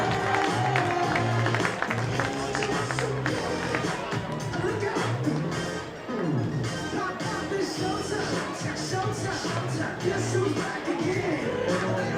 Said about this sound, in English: How about a round of applause for your hula hoop winners, Jimmy Johnfield? Give it up.